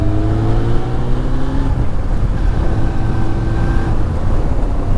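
Suzuki Bandit roadster motorcycle engine pulling hard in third gear, a loud steady drone with rising engine tones against strong wind noise, heard close from the rider.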